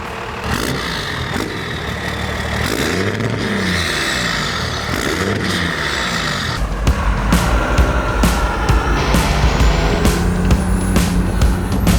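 A Cummins diesel-swapped 12-valve crew cab squarebody dually truck drives along, its engine droning and revving steadily with shifting pitch, a louder rumbling passage in the second half.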